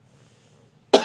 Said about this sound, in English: I don't know why I'm coughing, but y'all excuse that.